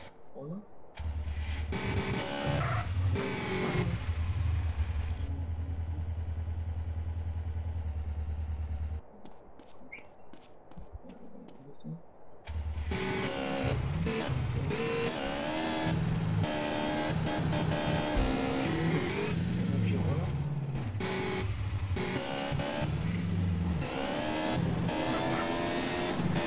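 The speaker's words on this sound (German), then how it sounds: "ich fahre mal mit dem Roller" Scooter engine in GTA San Andreas, a steady buzzing drone that holds loud for several seconds, drops out briefly, then returns strong and continuous with music-like layers, while someone talks over it.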